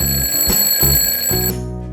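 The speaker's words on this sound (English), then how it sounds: "I always make sure the alarm is off, because that also has gone off" A hotel room alarm clock goes off, loud and close, with a steady electronic tone pulsing in regular beeps before cutting out.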